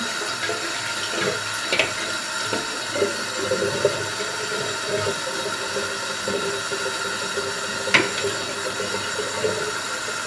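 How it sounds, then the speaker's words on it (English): Steady rushing water fills a toilet tank, a continuous hiss and gurgle with a couple of brief clunks along the way. "now let's fill it with water"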